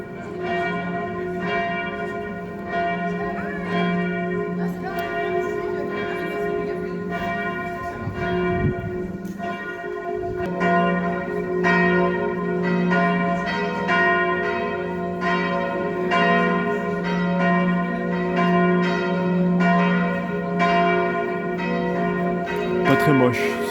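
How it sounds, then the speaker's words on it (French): Church bells peal at the Château des Ducs in Nantes during the Christmas season, a loud, sustained clanging with ringing overtones that carries on steadily for the whole stretch, with no one talking over it. "Le son j'aime bien, entendre des cloches, c'est sympa"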